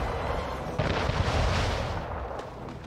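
Ship cannons firing in the video game Anno 1800, a heavy, rumbling boom bursting in under a dense, continuous background roar, with low thuds spread over about a second before the noise fades gradually.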